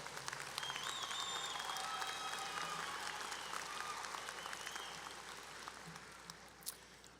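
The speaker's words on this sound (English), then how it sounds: "would you please give him a round of applause?" At a college graduation ceremony, a crowd applauds a graduate with sustained, moderately distant clapping that gradually thins and fades toward the end, with faint tonal traces above.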